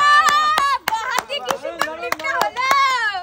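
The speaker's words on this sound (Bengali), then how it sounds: "জোরদার তালিয়া" Hand claps at a left-handed fuchka-eating challenge game, a run of sharp, irregularly spaced claps under loud, excited voices that keep talking and calling out throughout.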